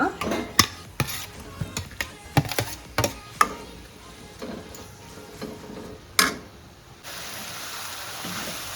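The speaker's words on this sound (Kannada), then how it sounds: "ಇದನ್ನು ಬಾಣಲಿಗೆ ಹಾಕ್ಕೊಳ್ಳೋಣ ಕೆಂಪಾಗೋ ತನಕ ಹುರ್ಕೋಬೇಕು ಈರುಳ್ಳಿ ಮತ್ತು ಟೊಮೆಟೊನ" Chopped onion and tomato being sautéed in a pan for paneer butter masala, with sharp scraping and clinking taps of stirring, then a steady soft sizzle taking over in the last couple of seconds.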